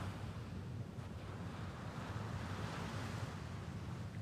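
Ocean waves wash onto a sandy beach in a continuous soft roar, steady and fairly quiet, with wind rushing across the microphone and no voices.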